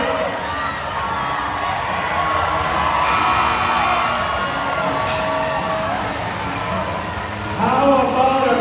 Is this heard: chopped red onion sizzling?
no